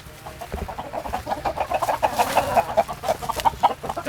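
Hens and roosters cluck steadily inside a backyard shed-style hen house, a dense overlapping chatter of many birds at close range with no pause.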